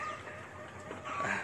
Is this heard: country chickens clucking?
yes